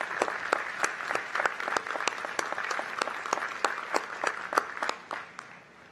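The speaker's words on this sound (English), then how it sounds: "Let's give them a round of applause." A large audience at the University of Mississippi's 165th commencement ceremony applauds steadily with dense, continuous clapping that tapers off near the end.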